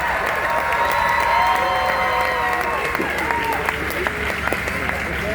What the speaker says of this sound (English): How about a round of applause for all the drivers at event number 1?